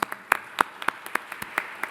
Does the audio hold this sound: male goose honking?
no